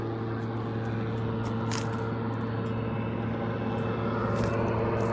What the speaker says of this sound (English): Oh, there's the big chopper.